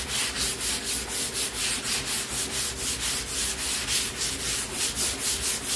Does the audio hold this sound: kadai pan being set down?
no